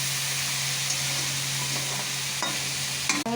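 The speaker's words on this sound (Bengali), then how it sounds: "এর মধ্যে লঙ্কা টমেটোগুলো দিয়ে দিলাম, এগুলো দিয়ে দিচ্ছি এর মধ্যে, দিয়ে একসাথে ভেজে নেবো একটু আলাদা করে।" Chilies and tomatoes sizzle together in a hot pan with a steady frying hiss and a low hum beneath it. Near the end a few stirring scrapes and clinks come through. There is no talking.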